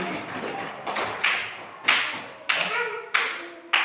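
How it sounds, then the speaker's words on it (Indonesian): Children in a classroom clap together in several uneven bursts, each starting with a sharp slap and then trailing into a scattered, fading patter. The bursts come at fairly regular intervals, close and moderately loud. "Tepuk tangan sekali lagi."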